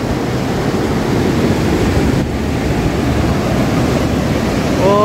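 Ocean waves at Maracas beach in Trinidad, a loud continuous wash of surf with wind buffeting the microphone and no talking.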